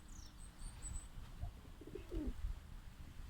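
Pigeons in a Turkish hobbyist's flock, including grey smoky birds, give a few low soft coos amid faint higher chirps and scattered background noise, close by with no talk.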